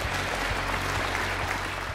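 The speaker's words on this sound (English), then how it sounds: "let's give our young people a round of applause" A crowd applauds young people at a Let's Move! first-year anniversary event, a dense, steady wash of clapping with a low hum running under it.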